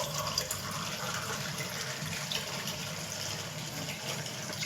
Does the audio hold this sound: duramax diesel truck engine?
no